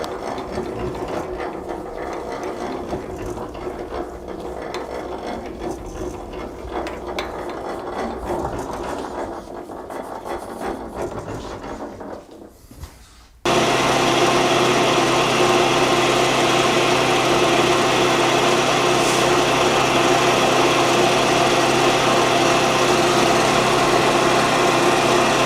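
A vintage milling machine spins an end mill against metal, first a rough, uneven whirring grind, then after a brief dip a steady, loud, high-pitched machine whine that holds to the end with no talk.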